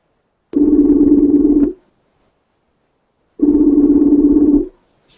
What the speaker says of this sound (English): Henry Tillman's ringing, right?